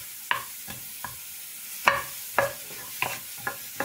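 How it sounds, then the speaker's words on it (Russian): Onion sizzling in a hot, dry frying pan, broken by a series of irregular scraping clatters as it is stirred, close and moderately loud. "обжариваем все это на сухой сковородке"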